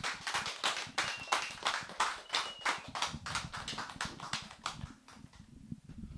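Applause from a lecture audience at the close of an opera talk, a dense run of hand claps that fades near the end, heard alone without speech.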